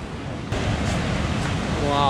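Big ocean waves at Tanah Lot, Bali, make a steady, loud roar of surf mixed with gusty wind on the microphone, and a faint voice comes through near the end.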